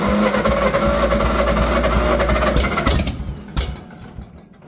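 John Deere 40 tractor engine catching and running loud and rough with a low chugging pulse, then cutting out and fading within a few seconds.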